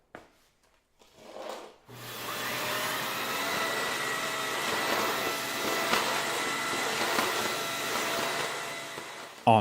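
A Dyson Big Ball Multifloor canister vacuum cleaner runs on a hard floor with a steady, loud whirring drone after a brief quiet start, joined by rubbing and scraping noises as it moves.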